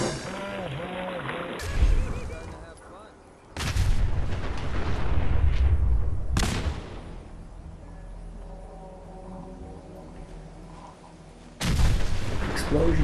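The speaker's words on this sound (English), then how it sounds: "Explosions galore." Explosions and gunfire boom out in Fallout 4 during a raider fight, with several heavy loud blasts at intervals and a rumbling, crackling combat din between them.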